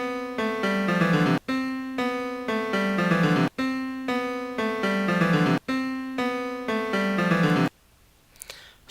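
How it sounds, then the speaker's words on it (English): MIDI instrument playback rolling through a scale, with four sustained, evenly timed bright synthesized note phrases separated by short breaks, clean and loud, ending on a brief quiet tail. "what you just heard was simply rolling through the scale"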